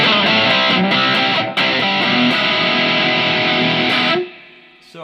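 A high-gain custom preset on a Positive Grid Spark Mini amp blasts heavily distorted electric guitar chords, loud and sustained, with no delay effect, then cuts off abruptly, leaving a fading ring-out.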